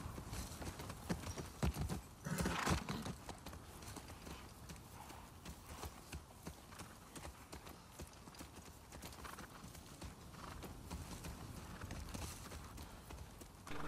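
Horse hooves clip-clop at a walking pace over ambient background in the video game The Last of Us Part II, fairly quiet, with an occasional snort and no talking.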